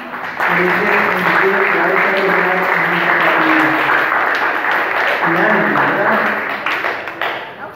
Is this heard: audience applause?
yes